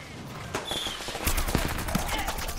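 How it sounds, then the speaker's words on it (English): Rapid bursts of gunfire from the video game Plants vs Zombies Garden Warfare 2, rattling continuously at moderate loudness amid dense game effects and busy background noise. "I'm just sponging shots like crazy right now."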